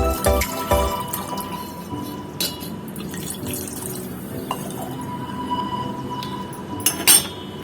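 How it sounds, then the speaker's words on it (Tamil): Water trickles as it is poured into a tumbler glass for mint lemon juice, with a few glassy clinks at the start and end. "இப்போ ஒரு டம்ளர் தண்ணி ஊற்றிக்கலாம்"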